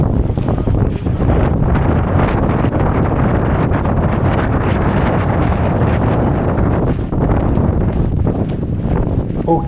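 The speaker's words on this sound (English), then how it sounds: "It's quite windy." Strong wind gusts across a cliffside hiking trail at Caminito del Rey, buffeting the microphone in a constant loud roar with no pauses.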